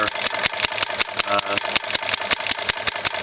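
A small engine fitted with a fuel-tank-mounted carburetor idles steadily, its fast, even pulses running loud and close throughout with no voices.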